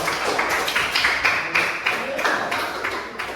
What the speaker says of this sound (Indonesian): silakan dulu kita berikan aplaus untuk kelompok 2